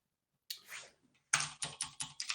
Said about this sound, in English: this Cherry MX Blue keyboard is very loud and clicky